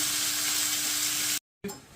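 Ground beef burger sizzling in a pan with added water for taco mac and cheese, a steady bright hiss throughout, a brief silent cut near the end, then the sizzle resumes.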